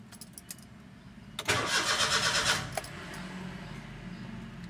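A Suzuki car's starter cranks in one burst of about a second, loud and close, while the engine fails to catch because the immobilizer blocks it, with quiet background before and after.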